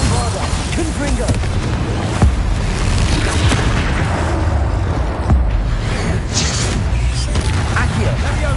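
Confringo fire spell blasts going off in the Hogwarts Legacy video game, dense booming bursts and crackles under a continuous loud wash of combat noise, with a voice calling out spell names.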